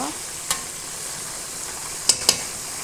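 Spice-coated fish, which the cook says some people call tuna, frying in a pan with a steady broadband sizzle and a few sharp clicks as the pieces are turned.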